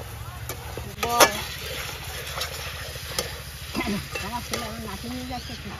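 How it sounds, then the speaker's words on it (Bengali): Chicken pieces sizzle and fry in a pan while being stirred, a soft steady crackle broken by sharp scraping clinks of the spatula, with occasional talk over the cooking. "মাংসটা একটু আমি ভেজে নিলাম"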